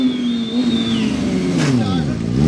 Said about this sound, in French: un petit burn avec leur moto